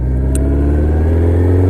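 A 1984 Honda CB750 Nighthawk S motorcycle engine runs loud and close with a steady low rumble and slight revving throughout, with no one talking.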